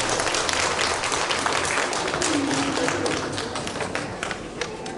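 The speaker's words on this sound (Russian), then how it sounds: "Аплодисменты нашим победителям" An audience claps for award winners at a grooming competition ceremony, a lively burst of many hands that gradually thins out and softens toward the end.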